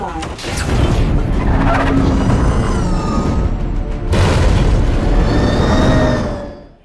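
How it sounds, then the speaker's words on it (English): A loud helicopter explosion and crash from The Dark Knight, a sustained roaring boom with crashing debris that rumbles on for several seconds before cutting off. "And when the helicopter explodes"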